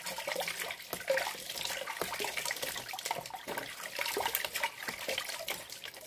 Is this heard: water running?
yes